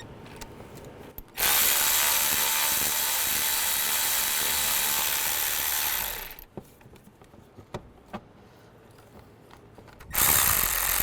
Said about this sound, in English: I'm just going to remove the bolts for those. There's a 10mm socket.